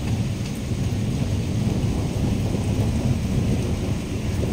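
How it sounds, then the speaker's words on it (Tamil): Heavy thunderstorm in Qatar: dense, constant rain pours loudly over a deep rumble of thunder that rolls on without a break, with no voices. "அதோட பார்த்திங்கன்னா இடி சத்தம் பயங்கரமாக இருக்குது."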